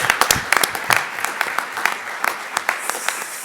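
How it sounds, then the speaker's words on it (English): Thinning audience applause at a Silicon Valley tech startup venture day, with sharp individual claps standing out close by as the clapping tapers off. "one last round of applause for the whole group"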